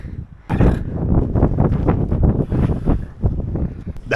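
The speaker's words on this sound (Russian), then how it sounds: "А ветер сегодня, надо сказать, довольно сильный и довольно холодный" Strong, cold wind gusts steadily across the microphone in an open spot near Aktau, roaring loudly and unevenly with buffeting bursts and no speech throughout.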